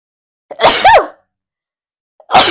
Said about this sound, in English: Goodness, 3 sneezes.